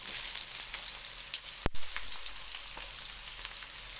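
Onions hit hot oil with popping mustard and fenugreek seeds for a fish kulambu, giving a steady close sizzle with one sharp clatter midway.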